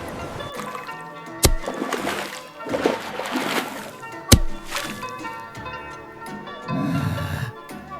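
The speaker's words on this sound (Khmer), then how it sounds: "ទាំងប្តីទាំងប្រពន្ធ បាចទឹក ទាំងថ្ងៃ ទាំងយប់" Sea water splashing as a husband and wife bail it out by hand, with two sharp splashes standing out over ongoing watery sloshing and a voice talking.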